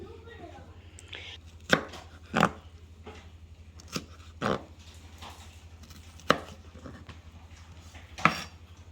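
Yellow sweet pepper being cut with a knife on a board, six or seven sharp separate chops spaced about a second apart, close and distinct with no talking.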